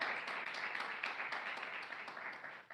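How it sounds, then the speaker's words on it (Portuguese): Applause from a church congregation during a sermon, a faint, continuous patter of many hands clapping together without any voices over it. "Palmas de vitória para Jesus de Nazaré."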